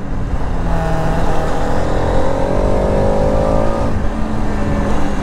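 A Bajaj Pulsar RS 200 BS7 motorcycle ridden hard and fast keeps up a loud engine note with rising revs, heard close up over a continuous rush of wind and road noise.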